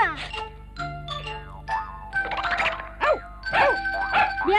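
A dog in a Doraemon cartoon barks in a short series of sharp yaps over a bright cartoon soundtrack, loud and close, with voices mixed in.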